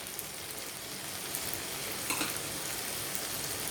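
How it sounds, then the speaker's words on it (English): Cauliflower frying in hot oil in a kadai gives a steady, dense sizzle that holds close and even throughout, with no talking. "Fry all the vegetables nicely."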